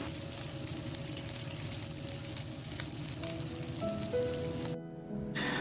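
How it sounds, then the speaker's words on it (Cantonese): Chopped onions sizzle steadily as they are stir-fried in a hot pan, a dense continuous crackle close by with faint clinks, cutting off briefly near the end before resuming. "將切好咗嘅洋葱擺埋落嚟一齊爆香佢啦，我要將啲洋葱炒到佢好香嘅"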